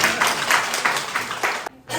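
An audience claps at a hospital foundation day celebration, a dense patter of hands in rhythmic surges that stops abruptly near the end before starting again briefly.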